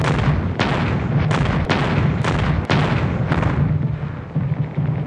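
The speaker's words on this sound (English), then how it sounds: "the heaviest concentration of naval gunfire ever expended to support" Heavy naval gunfire booms in quick, irregular succession over a constant rumbling roar, loud and close, during a bombardment supporting the amphibious landing at Okinawa.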